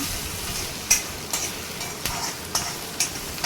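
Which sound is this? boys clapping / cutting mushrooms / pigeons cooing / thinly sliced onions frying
thinly sliced onions frying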